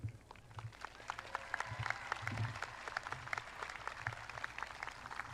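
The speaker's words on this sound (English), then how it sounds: "If families would please keep cheering down so each child can have their name recognized." A graduation audience at a 2025 South Brunswick High School ceremony applauds and cheers, with steady, moderately distant clapping that carries through the whole stretch, without any speech.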